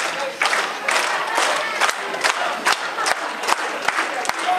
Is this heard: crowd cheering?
yes